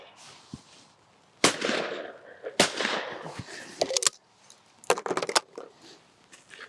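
A Miroku MK38 shotgun fired at clay targets, with several sharp, loud reports spaced a second or so apart and quieter clatter and handling noise between them.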